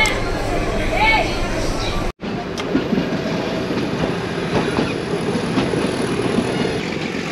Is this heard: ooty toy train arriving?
yes